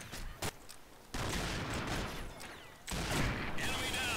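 Rapid bursts of gunfire in the online shooter Combat Arms, including Desert Eagle pistol shots, crackle in several dense volleys with short gaps between them.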